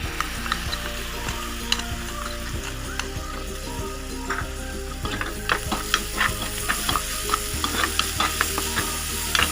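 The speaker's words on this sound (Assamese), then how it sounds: "ভাজি লৈছোঁ মছলাখিনি।" Spice paste fries in a pan for a bitter gourd dish, giving a loud, continuous close sizzle punctuated by scraping stirring strokes and clicks of the spoon against the pan, with no talking.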